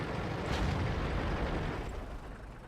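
Tank cannon fire in a World of Tanks style video game with an IS-2 tank, a heavy booming blast with a long rumbling low roar that slowly fades.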